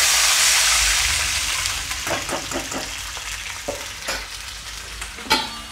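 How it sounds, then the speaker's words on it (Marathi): A ground green chilli and garlic paste fries in a pan, opening with a loud, dense sizzle that slowly settles into softer bubbling with scattered crackles and stirring scrapes, close by with no talk. "मिरची आणि लसूण ग्राइंड करून घेतलेलं तेही मिश्रण आपण यामध्ये टाकणार आहोत। हे मिश्रण आता आपण चांगलं फ्राय करून घेऊ।"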